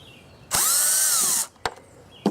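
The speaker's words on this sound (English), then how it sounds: "Barrett, you want to take the screws out?" A power drill removing screws from a precast concrete form whirs loudly for about a second, its pitch sagging under load, followed by two short sharp clicks or knocks.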